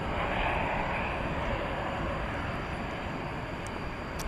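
A jet airliner roars down the DFW Airport runway at night on its takeoff run, a steady loud broadband engine rumble holding evenly throughout.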